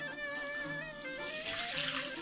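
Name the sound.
lukewarm water being poured in to activate yeast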